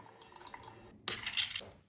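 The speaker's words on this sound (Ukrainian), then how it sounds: "І включу чуть-чуть повільніше воду." Tap water running slowly into a balloon indoors, a faint trickle that swells into a louder, brighter splashing gush partway through, with no talking.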